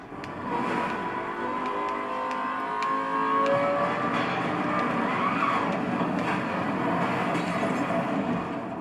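A car races and skids in the video game Need for Speed Most Wanted (2012), giving a continuous loud engine roar with long tyre squeals and scattered sharp impacts, and no talking.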